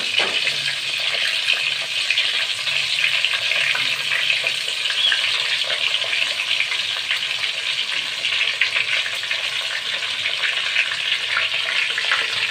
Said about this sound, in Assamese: দি তেলত মই আকৌ এবাৰ ভাজি ল'ম